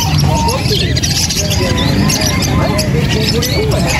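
Parakeets crowded together at an open pet market in Angeles City chirp and chatter continuously up close, a loud busy twittering mixed with market voices talking.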